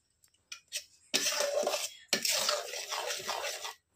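Thick mango pulp being poured and spread onto two oil-brushed metal plates, with a few light taps and then two longer wet, scraping smears across the plate surface, close and fairly quiet with no talk.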